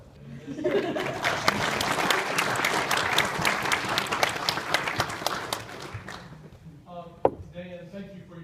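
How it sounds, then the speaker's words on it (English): Mourners at Aunt Catherine's memorial service give a full round of applause, loud and crowded, which fades out after several seconds before a voice begins speaking. "we gave God a round of applause for the talent in this"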